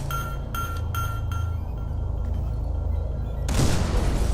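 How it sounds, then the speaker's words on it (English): A grenade blows up in the shooter game Scourge: Outbreak, a sudden loud broadband blast that lands late and rumbles on, following a steady low hum and a few short metallic chimes. "Let's just throw a grenade."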